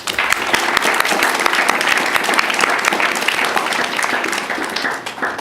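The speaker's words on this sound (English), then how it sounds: "So let's give a quick round of applause to both of our candidates." Audience applause at a student board candidate forum, dense continuous clapping from a crowd with some sharper nearby claps, tapering slightly at the end.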